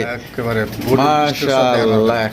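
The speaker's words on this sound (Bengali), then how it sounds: "এক জোড়া লাহোরি কবুতর দেখতেই পাচ্ছেন" A pair of large black Lahori pigeons coos up close in soft, repeated throaty calls that rise and fall, with a voice talking alongside.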